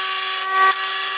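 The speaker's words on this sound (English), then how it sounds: "Those are going to be a size 10 millimeter socket, so you want to go ahead and remove those" Power tool with a 10 mm socket driving out bracket bolts during a bumper installation on a Toyota Tacoma, a loud steady high-pitched whir with a brief dip in the middle, heard alone at close range.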